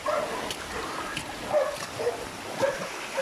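Several pig-hunting dogs in New Zealand yip and bark at a distance, scattered and intermittent, over steady outdoor background noise.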